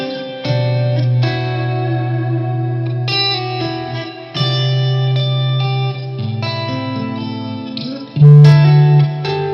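Electric guitar with reverb, echo and chorus effects strums sustained chords while the bass note underneath shifts between phrases, loud and close, with short gaps between chord groups and no talking.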